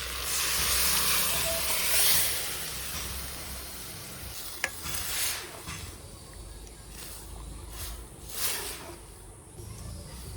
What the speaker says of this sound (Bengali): মশলাটা মিশিয়েই ডালটা ঢেলে দেবো।